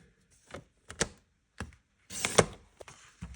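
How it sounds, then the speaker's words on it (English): A handful of sharp clicks and a longer scraping slide as a paper trimmer blade is drawn through cardstock, with quiet gaps between sounds. "I'm going to use my trimmer"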